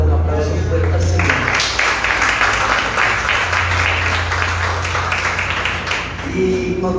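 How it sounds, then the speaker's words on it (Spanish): A church congregation claps strongly during a Spanish-language service, steady applause building and holding while a voice and a sustained instrumental tone continue beneath. "Dale un aplauso fuerte al Señor."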